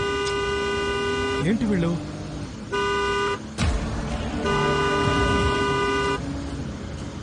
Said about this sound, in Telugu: హార్న్ కొడుతూనే ఉన్నావు